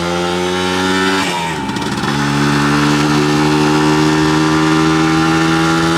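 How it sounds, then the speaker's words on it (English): A 1972 Kawasaki G3SS 90cc motorcycle engine revs steadily up close, with a brief dip and rise in pitch around the second mark before settling into a loud, sustained high-revving drone. "It'll rev down low and it'll rev right out."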